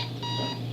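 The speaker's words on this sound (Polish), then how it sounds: "Mój budzik." A shrill electronic alarm clock in the video game Postal 2 rings continuously, a steady piercing tone over a low hum, loud and close for under a second.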